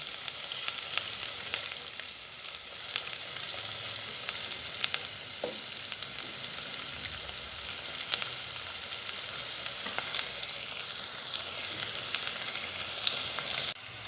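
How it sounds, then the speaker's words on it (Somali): Chopped onion fries in oil in a pot, giving a dense, even sizzle that stays loud and close throughout, with faint popping spits and no speech. "waxaan ku shubay bashashii xoogaa ha yara shiilanto."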